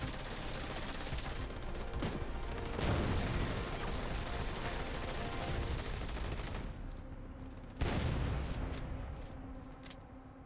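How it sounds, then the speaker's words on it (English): In a video game, explosive delivery sets off one blast after another in quick succession, a dense crackling barrage like a fusillade. It eases off near the end, then a sharp burst breaks out again. "someone has the explosive delivery on it because it's exploding over and over"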